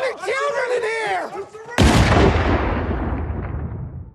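A loud burst of gunfire erupts in a TV drama scene about the Waco siege, following a shouting voice and then decaying into a rumbling echo.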